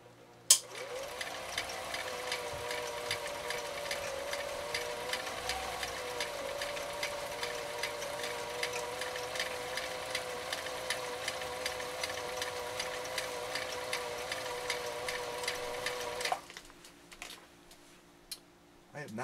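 A 1955 Viking Type 21 sewing machine, rated 1.5 amps, runs steadily for about sixteen seconds, stitching through six layers of commercial upholstery material, then stops. The motor hum and fast needle clatter are close and loud, with no talk over it.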